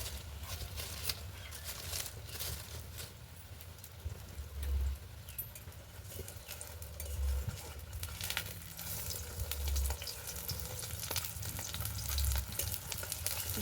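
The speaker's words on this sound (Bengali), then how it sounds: "তো অল্প অল্প করে সবগুলো ভেজে নেব।" Besan pieces frying in oil outdoors on a very windy day, a continuous sizzling crackle over low rumbling wind buffeting, with a few dull thumps, no talk.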